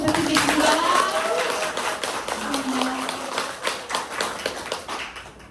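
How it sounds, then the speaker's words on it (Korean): Applause from an audience at a Korean motivational talk, a dense patter of hand claps spread evenly across the room, fairly loud and tapering slightly toward the end, with a few voices faintly mixed in. "오늘 정말 너무 멋지게 동기부여 해주신 박소진 사장님께 큰 박수 한번 부탁드리겠습니다."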